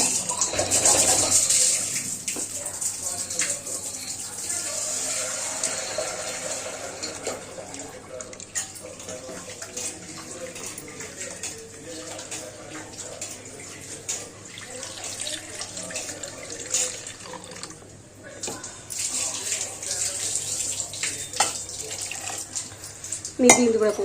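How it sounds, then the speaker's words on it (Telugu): Water is poured into a pot of tamarind rasam as it cooks, a continuous splashing stream with occasional clinks of pots and utensils and faint voices in the background. "వేసేసి మనకి ఎంత సరిపోతుందో అంత వాటర్ వేసేసుకుందాము"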